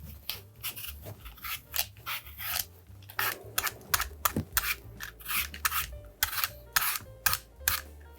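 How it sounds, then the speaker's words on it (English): A whole apple being peeled with a regular handheld peeler: repeated short rasping scrapes in an uneven rhythm, close and fairly clear, with no talking. "I like to peel it while it's whole, and I'll just use my regular peeler"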